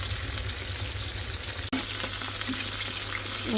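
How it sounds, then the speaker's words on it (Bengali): Chicken frying in a pan gives a constant, close sizzle and crackle, briefly interrupted by a sharp clatter mid-way before the steady hiss resumes with small pops. "চিকেন উলট ফলট করে দিই কারণ এক সাইডে ভালো হয়ে গেছে"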